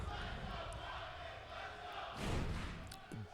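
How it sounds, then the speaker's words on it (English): Crowd at an esports fighting-game tournament finals rumbles and roars, a broad sustained wash of noise that swells louder near the end, with shouts mixed in. "The entire crowd is rumbling."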